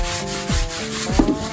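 A brush scrubs stained balcony wall coated with Harpic cleaner, giving rough back-and-forth rubbing strokes, loud and close, with a couple of distinct sweeps in quick succession.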